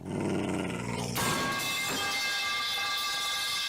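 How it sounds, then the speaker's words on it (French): Naafiri, a dog demon in the League of Legends video game, growls low and rumbling, then gives a sharp snarling roar that trails off, loud and close with no talk. "un démon chien d'Arkin féroce qui dévore ses proies sans pitié, peut être caressé"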